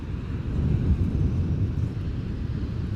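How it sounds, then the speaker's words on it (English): A Delta Air Lines Airbus A330-300 arriving from Minneapolis touches down on the center runway at Amsterdam Schiphol on a windy day, its broad engine roar loud and steady throughout with wind buffeting the microphone. "Delta Airlines flight 162 A330-300 arriving from Minneapolis after 7 hours and 57 minutes of flying, about to touch down on the center runway"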